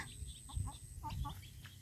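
Chickens clucking at a rural Thai home at feeding time, giving short, soft clucks in small bursts over a low background murmur at close range.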